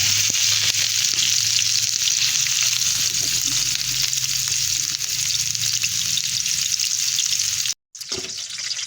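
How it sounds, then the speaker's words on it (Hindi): Chapli kebab fries in fat-rendered ghee in a pan, a loud, dense, steady sizzle that stays close and continuous with one brief dropout near the end and no talking over it. "तो अब मैं इसको फ्राई करूँगी।"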